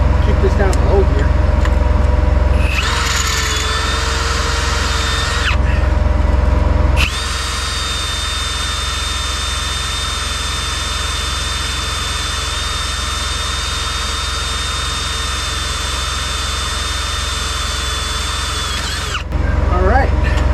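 A small cordless die grinder works on a cracked semi-truck tag axle, giving a loud, steady high-pitched whine that runs in two stretches over a heavy low rumble, close to the listener.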